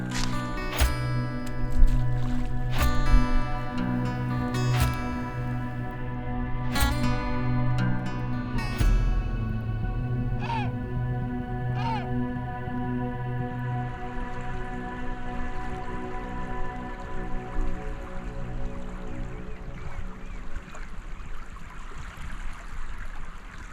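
Small waves lapping and trickling on a Norwegian shore close by, soft splashes coming irregularly over a steady low hum.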